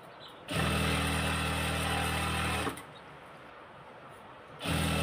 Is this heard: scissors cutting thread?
no